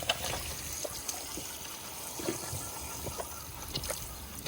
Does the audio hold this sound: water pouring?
yes